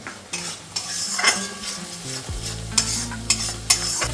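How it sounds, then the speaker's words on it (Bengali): Spices and coriander leaves are stir-fried dry in a pan for a Republic Day dish, giving a close sizzle with repeated sharp clinks and scrapes of a spatula against the metal, and no voices. "ধনে পাতাটা কষতে থাকুক"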